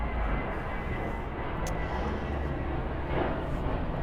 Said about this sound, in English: I'm just going to let that plane go over so that it's not too noisy.